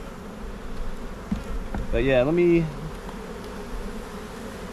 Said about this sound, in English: Like I said, ton of bees.